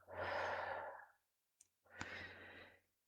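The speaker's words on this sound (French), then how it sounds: "Expire par la bouche." Two slow, breathy exhales through the mouth during a calming breathing exercise, close and soft with a short pause between them and a faint click.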